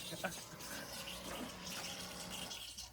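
Water rushes steadily under strong pressure from the hose of a Camplux outdoor hot water heater, a continuous, fairly faint hiss and gush.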